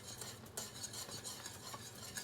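A whisk stirs a thickening slurry into a pot of peaches for a cheesecake topping, giving quick, rhythmic scraping and light clinks against the pan, close and fairly soft with no talking.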